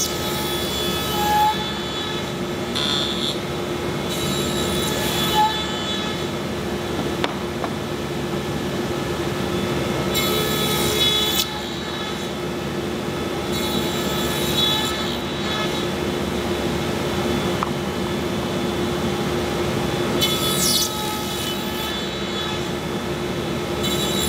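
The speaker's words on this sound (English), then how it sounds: "So you saw how we just cut the tongues." A power saw cuts tongues on solid wood door pieces in a woodworking shop, a steady mechanical drone broken by several short, harsh bursts as the blade passes through the wood.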